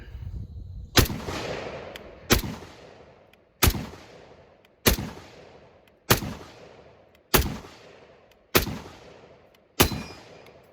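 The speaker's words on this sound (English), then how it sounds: "let's fire these first shots and see how this guy does" An M1 Garand rifle fires its first shots outdoors: eight loud, sharp reports spaced roughly a second and a quarter apart, each trailing into a short echoing decay, with no talk.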